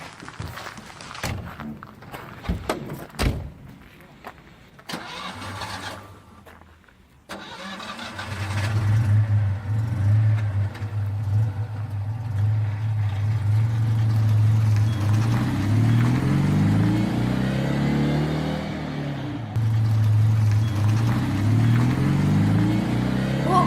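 A car with an unusual swan-shaped body starts up and pulls away, its engine rising to a steady, loud mid-pitched drone that holds for the rest of the clip after brief early clatter.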